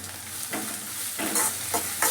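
Onion and garlic frying in a pan sizzle steadily while a spoon stirs in three or four distinct scraping sweeps, close and clear, with no voices.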